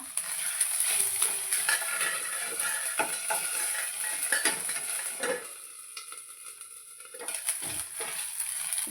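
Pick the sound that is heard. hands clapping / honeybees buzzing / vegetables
vegetables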